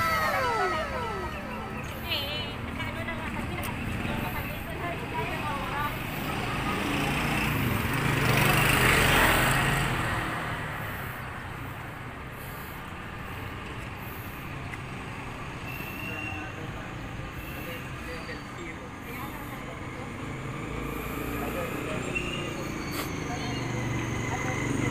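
A small motorcycle engine runs steadily throughout, a continuous mechanical drone that swells slightly in the middle and then settles, heard up close.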